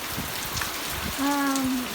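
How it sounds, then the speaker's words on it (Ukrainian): Heavy, warm summer rain pours steadily as a dense, even hiss, with a brief voice-like tone rising over it near the end. "Це справжнісінький літній дощ."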